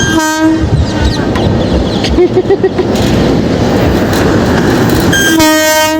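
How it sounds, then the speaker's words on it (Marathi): A freight train rumbles past close by with a clattering roll of wagons, its horn sounding at the start and again near the end. "मालगाडी अजून एक ट्रेन आली"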